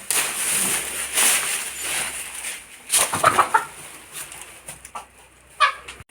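A native country hen clucks in short, irregular bursts close by, the loudest runs coming in the middle and near the end, with quieter farmyard background between them.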